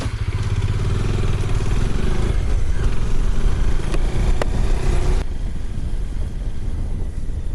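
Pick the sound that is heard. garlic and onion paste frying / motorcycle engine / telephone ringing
motorcycle engine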